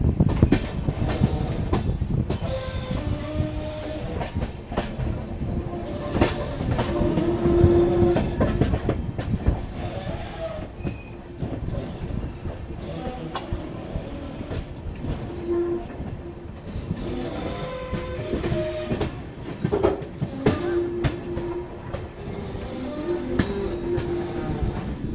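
Amrit Bharat Express passenger train rolling around a curve near Chhapra, a long steady clickety-clack of wheels over rail joints with rumbling carriages, heard from aboard, faint squeals and no voices.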